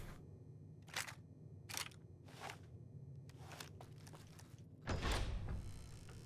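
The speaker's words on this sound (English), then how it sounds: "Interesting door opening sound effect." Door opening in the video game Fallout New Vegas: a series of short, sharp mechanical clicks and clunks, followed by a louder, fuller scraping thud near the end, with no talking.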